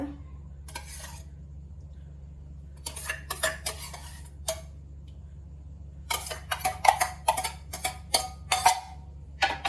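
Yogurt is spooned over paneer and mixed in a dish. A spoon clinks and scrapes against the bowl in short, irregular bursts, close up, with stretches of quiet between them and a low steady hum underneath. No one speaks.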